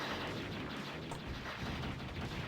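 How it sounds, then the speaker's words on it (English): Dense, continuous barrage of rapid shots and blasts from homing missiles in the Neo Geo shooter Last Resort, a steady, loud wall of rumbling fire with no talking. "I'm shooting a lot of homing missiles now"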